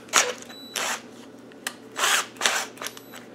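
A bent power drill whirs in several short bursts, each a second or less, with brief quiet gaps between them, loud and close, during a Land Rover power steering reseal.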